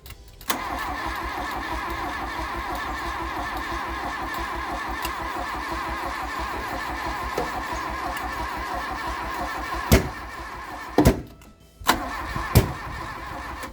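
The engine of a Mk1 Volkswagen Golf, pulled from a paddock after long disuse, cranks and runs roughly at a close, uneven idle, with a few sharp knocks and a brief stumble near the end.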